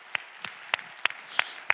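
In a church congregation, a few slow, evenly spaced sharp claps ring out, about six distinct hand claps roughly every third of a second over a quiet background.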